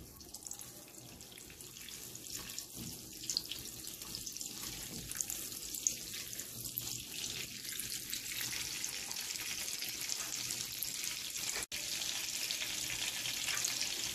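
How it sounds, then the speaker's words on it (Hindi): Steady, hissing sizzle of butter melting into two tablespoons of hot oil in a pan, soft and continuous with faint crackles throughout. "दो टेबलस्पून ऑयल को गर्म किया है अब हम इसमें मक्खन डालेंगे"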